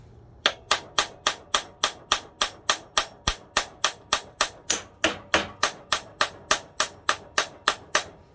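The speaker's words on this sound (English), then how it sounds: "I'm using a brass hammer to see if I can tap it out" A brass hammer taps repeatedly on a KD80 axle held in a stand: a long, steady run of sharp, loud metallic strikes, about three per second, with no talking.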